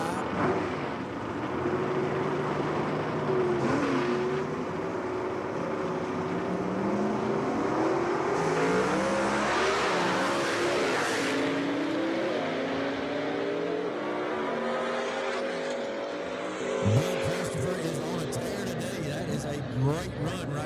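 Gasser-class drag car making a pass at Jackson Dragway, engine roaring and shifting through gears as it runs down the strip, mostly under continuous commentary from an announcer.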